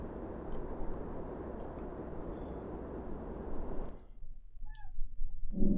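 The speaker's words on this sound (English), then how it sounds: "I think Rocket wants some cat food." Meows from a pet cat asking for food come in after a stretch of loud broad rumbling noise, two short rising calls near the end, fairly close.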